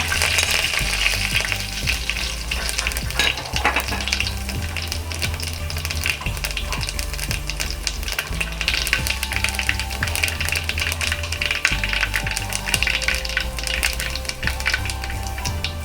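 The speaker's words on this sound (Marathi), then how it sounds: "तेल गरम झालेलं आहे. राई जिरं टाकते त्याच्यात अर्धा चमच." Mustard seeds and cumin, about half a spoonful, sizzle and crackle in hot oil for a Maharashtrian amti, a dense continuous frying hiss with scattered pops, close and loud with no talking.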